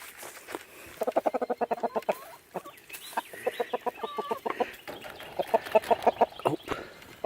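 Backyard chickens clucking excitedly while eating a grasshopper, rapid bursts of clucks and squawks that come in quick runs, moderately close and fairly soft.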